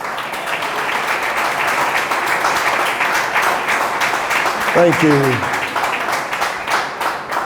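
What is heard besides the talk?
audience applause in church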